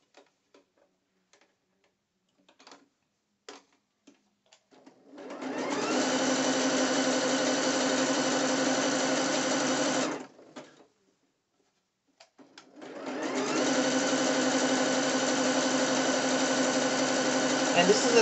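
A sewing machine stitches 3/8-inch elastic onto a two-piece dancewear leg opening in two long, steady whirring runs. Scattered light ticks and clicks come before and between the runs.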